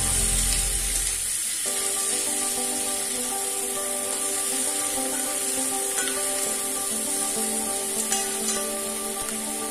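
Tomato, onion and capsicum frying on high flame for chilli paneer, a steady close hiss of sizzling oil that runs continuously without talk.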